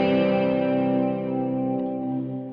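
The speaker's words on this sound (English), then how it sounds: "That's the reverb starting to engage." A clean-toned electric guitar chord sustains and slowly decays while reverb engages, leaving a smooth, shimmering wash that fades gently near the end.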